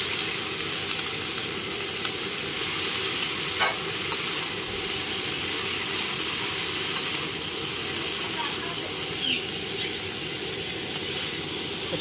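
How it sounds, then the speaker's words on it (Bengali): Spices and salt sizzle steadily as they are sautéed in a pan for thor gobindo, a Bengali banana-stem dish cooked with gobindobhog rice. The frying hiss runs close and constant throughout, with a voice faintly audible beneath it. "এই দেখুন মশলা কষা হয়ে গেছে।"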